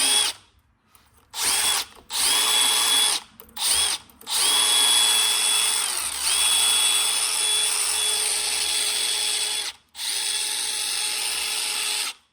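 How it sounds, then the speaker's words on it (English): A wire wheel spun by a drill scrubs brake dust off a Ford F-350 brake rotor, whining loud and close in long bursts broken by short stops, its pitch dipping as it bites into the metal. "wire wheel."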